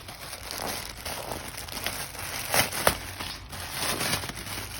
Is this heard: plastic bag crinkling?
yes